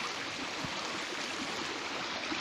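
The Rio do Bonfim, a mountain stream along a forest trail, flows in a steady, dense wash of rushing water that stays even and close throughout, with no voices.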